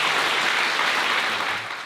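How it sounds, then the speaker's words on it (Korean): Applause from guests at a church wedding ceremony, dense and steady clapping that fills the room, tapering slightly at the end. "여러분 박수 한번 해주시겠습니다."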